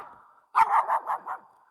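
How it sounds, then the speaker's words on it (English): A dog barks in a quick run of about five yaps, fairly close and loud, after a moment of quiet. "your dog barking"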